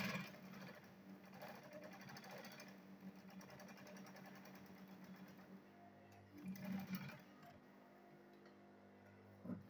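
A sewing machine stitches a handbag at low volume, a soft continuous whirring with faint ticking, swelling briefly near the end amid quiet handling noises.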